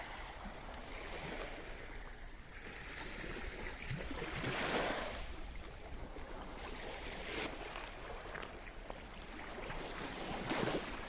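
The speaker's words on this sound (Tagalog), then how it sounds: "ito na yung dagat nila dito sa housing Marabelas," Sea waves along the shore at Bay View Housing in Mariveles, Bataan, a steady broadband wash with gentle swells rising and easing, occasional breaking surges and light wind, with no talk.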